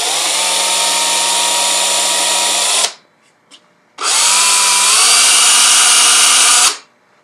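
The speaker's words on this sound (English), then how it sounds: "I'm going to start by pre-drilling the two outer holes with a 3/32 drill bit." A power drill with a 3/32 bit pre-drills holes in wood, whining loudly in two sustained bursts separated by a brief pause with a couple of small clicks, then stops.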